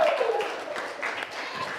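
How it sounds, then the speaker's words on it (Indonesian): A class audience at a high school anecdote-text performance gives brief, dense applause, steady clapping from many hands throughout, with faint voices mixed in. "Tepuk tangannya."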